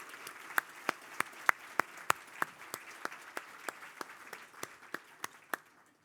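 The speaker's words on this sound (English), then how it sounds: "I invite everyone to join me in a round of applause for their ongoing accomplishments" Sparse applause at an awards dinner: a few close, sharp claps in a steady, roughly even rhythm over a quiet room, fading out toward the end.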